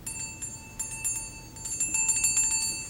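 A small silver Christmas tree bell rings with bright, clear tinkling strikes in quick repeated jingles, close and fairly loud, with sustained high ringing tones between shakes.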